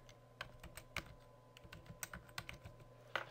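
An email address being keyed in on a computer keyboard, a quiet, close run of separate clicking keystrokes at an uneven pace, with no talking.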